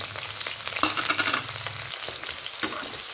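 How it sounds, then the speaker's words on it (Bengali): Chopped onion and green chili sizzle and fry in hot oil with panch phoron spices, a steady close crackle with a few louder pops and occasional stirring, no voices. "পেঁয়াজটাকে ভেজে নিবে।"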